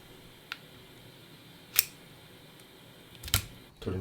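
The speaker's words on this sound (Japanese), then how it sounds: "骨の部分に関してはハサミを使ってコンカッセにしていきます" Bonsai scissors snip through mallard duck bones to break them up for a concassé, giving three or four sharp, isolated clicks spaced a second or more apart, close and crisp against a quiet background.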